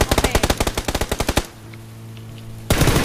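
Rapid automatic gunfire in PUBG aimed at a car, about a dozen loud evenly spaced shots in a quick burst, then a short lull before another loud burst of noise.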